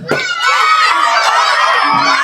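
A crowd of children shouts and screams together loudly during a Navratri festival game, sustained excited yelling close by.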